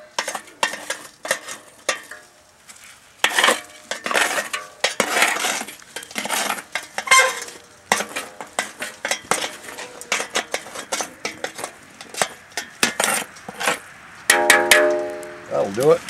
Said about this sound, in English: scrape away the edges, pull the charcoal back away from it